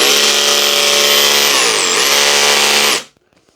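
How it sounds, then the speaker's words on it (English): A loud, steady Stanley FatMax V20 SDS drill (SFMCH900M12) drones close by in hammer mode, its pitch dipping briefly mid-run before it stops abruptly. "But you can actually hear it hammering this time"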